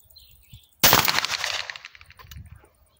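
A single loud, close shot from a Fabarm Elos C sporting shotgun fired at a target 35 metres away outdoors, with a sharp crack that trails off in a decaying echo.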